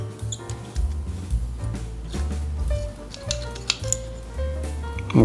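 Small metallic clicks and scrapes come from a rear brake pad pin being worked out of the caliper on a Triumph Tiger 800 motorcycle, close and fairly quiet, with a low hum underneath.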